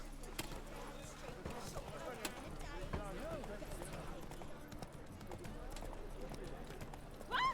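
Roach the horse gallops in The Witcher, a steady clip-clop of hooves running under nearly constant talk, with a brief louder burst near the end.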